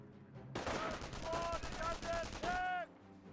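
In a Company of Heroes match, an MG42 machine gun fires from a garrisoned position in a loud, dense, sustained burst of rapid shots lasting a couple of seconds, then cuts off abruptly.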